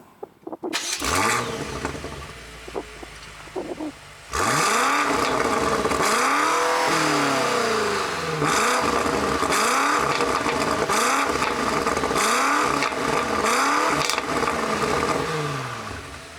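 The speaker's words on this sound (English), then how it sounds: "I did notice the exhaust sounds a lot better when you're standing outside the car" A 2018 BMW M5 starts up through its quad exhaust pipes, then fires into a series of sharp, loud revs that rise and fall about once a second, heard close from outside the car.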